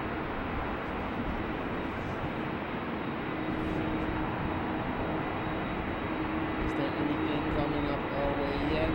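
A Boeing 737 taxis at foggy Schiphol Airport, its jet engines a steady, broad roar that holds constant throughout, while a voice talks faintly over it.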